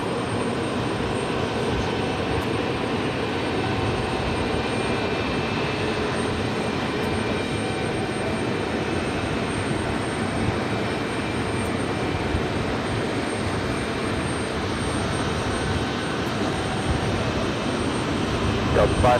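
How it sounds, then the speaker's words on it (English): Lufthansa Boeing 747-400 taxiing at JFK, a steady, even engine drone that holds unchanged throughout, moderately loud, with faint voices in the background. "We'll be seeing this 747-400 much longer with Lufthansa."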